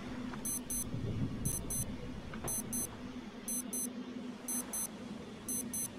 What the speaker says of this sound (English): What am I beeping for?